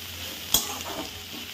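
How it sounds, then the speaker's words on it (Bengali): Dried Bombay duck fish frying with onions in a pan, a steady close sizzle with one sharp clack of a spoon or spatula stirring partway through. "মাছটা ভালো করে পেঁয়াজ দিয়ে ভেজে নেবো।"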